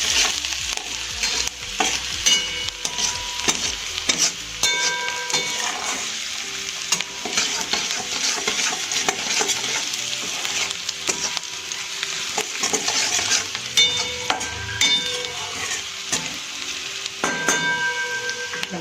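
Masala and crispy chilli potatoes sizzle in a pan while a spoon stirs and scrapes through them, a continuous close frying crackle broken by repeated clanks and scrapes, with no talking.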